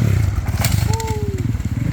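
A Husqvarna 450 dirt bike ridden on its back wheel, its engine putting out a rapid, throbbing pulse up close, with a thin whine rising over it partway through.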